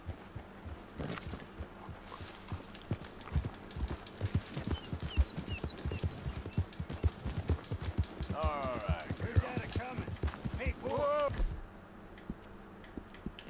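Horse hooves clopping in Red Dead Redemption 2, a steady run of close, regular thuds under game music and voices, ending as the rhythm stops.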